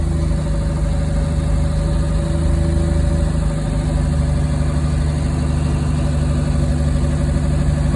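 1956 Chevrolet truck engine with a 1-wire alternator conversion idling on a cold day, a steady close rumbling drone that continues evenly without any talk.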